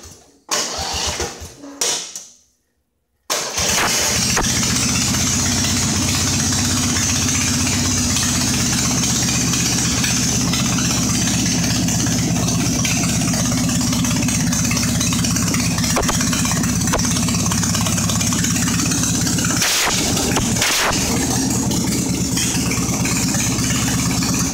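A racing lawn mower engine idles steadily and loudly up close for about twenty seconds, with a constant throbbing drone. A few seconds of rumbling and then a brief silence come before the idle settles in.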